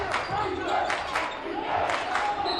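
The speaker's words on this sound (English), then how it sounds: "And the crowd back into it here at the Stone Gymnasium." A loud crowd roars and cheers throughout a high school basketball game in a gymnasium, swelling in waves with shouting voices close and steady.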